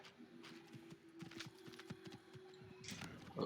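Quiet rhythmic hoofbeats of a galloping horse in Assassin's Creed, with a steady tone and faint game sounds in the background.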